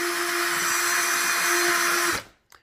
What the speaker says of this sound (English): Just want to make sure that I pre-drill, which I should have done first, so that I don't split the wood,